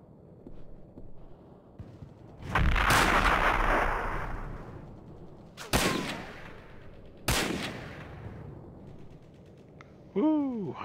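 Gunfire in the Hidden & Dangerous add-on A Bridge Too Far: a heavy booming blast followed by two sharp, loud single shots with echoing tails, spaced a couple of seconds apart, then a whistling sound at the end.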